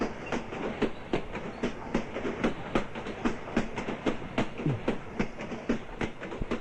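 Train running on rails, giving a steady rhythmic clickety-clack of wheels over track joints with a constant rolling rumble, moderately loud and continuous, with no voices.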